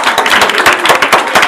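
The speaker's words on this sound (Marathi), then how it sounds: "जोरदार टाळ्या." Loud applause from a quiz-show audience after a correct answer, dense rapid clapping that stays up close and steady throughout.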